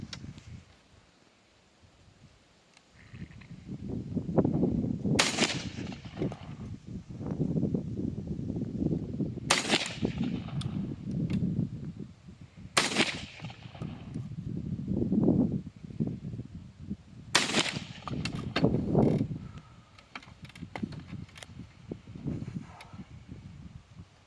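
Four sharp, loud shotgun blasts firing 12-gauge slugs, spaced several seconds apart, each a sudden crack over a low rustling, outdoor background.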